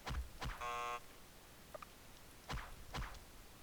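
A short electronic buzzer blares once for about half a second, flanked by soft thumps and a couple of faint whooshes.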